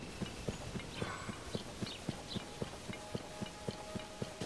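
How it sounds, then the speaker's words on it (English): Horse hooves clip-clopping in Zelda: Tears of the Kingdom, a steady, evenly spaced trot of sharp clicks continuing throughout, with faint game ambience behind. "And is this horse any good?"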